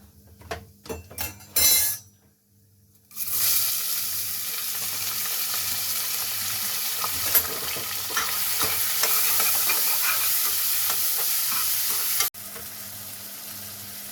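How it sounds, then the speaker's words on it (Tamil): A few clatters of a pan and utensils, a brief pause, then onions and cinnamon hit hot oil for a mutton curry and sizzle loudly and continuously for about nine seconds before dropping off abruptly; close up, with no talking. "வெங்காயம் போட்டு நல்லா வதக்கிக்கலாம்"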